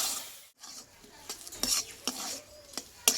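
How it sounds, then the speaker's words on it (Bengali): A spoon scrapes through a pan as rice paste is stirred into a vegetarian bathua-greens ghonto, a few quiet, irregular strokes over a faint, soft sizzle. "এবার চাল বাটাটাকে দিয়ে আমি ভালোভাবে আরও আমি এক মিনিট মতো এভাবে নাড়াচাড়া করে নেবো"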